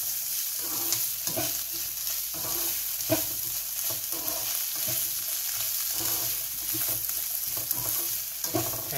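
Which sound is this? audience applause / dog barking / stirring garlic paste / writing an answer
stirring garlic paste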